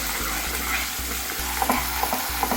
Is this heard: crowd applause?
no